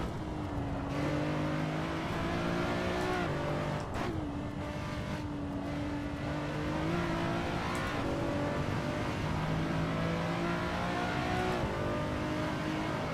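Race cars in Assetto Corsa scream at full throttle, engine pitch climbing and dropping through gear changes with several cars close together, loud and continuous with no talk.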